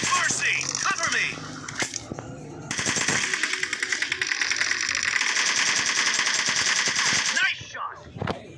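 Sustained rapid machine-gun fire from the PUBG mobile video game, with dense rattling bursts that run for several seconds close up, broken by short pauses, as a voice briefly talks.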